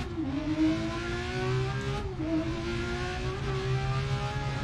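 A BMW M1 Procar engine in the DiRT Rally 2.0 racing game revs hard and steadily, its pitch climbing, dipping briefly at a gear change, then climbing again, loud and continuous with no voices.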